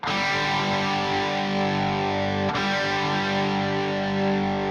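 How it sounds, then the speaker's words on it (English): A sustained, heavily distorted electric guitar chord rings out loud and thick through a Marshall 1987X Plexi tube amp, with a brief dip partway before sustaining again. "You get distortion, overdrive."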